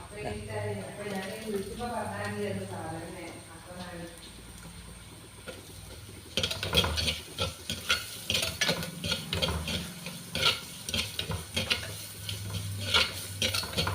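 Garlic is dropped into a hot pan for Onam-style rasam and stirred, starting as a soft sizzle under a voice and then turning into a louder, busier crackle with scraping of the spoon.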